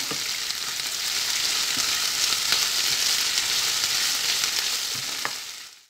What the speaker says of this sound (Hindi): इसको भी हम सॉटे कर लेते हैं।